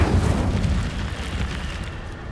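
A fire spell cast in a Hogwarts Legacy game: a loud, low rumbling whoosh that bursts at once and then holds as a steady roaring blaze, slowly easing off over two seconds, with no voices.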